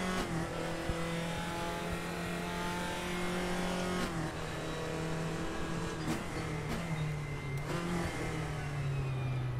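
An old-school race car engine in the RaceRoom sim game revs and drones continuously, its pitch sliding up and down with gear changes and small shifts throughout.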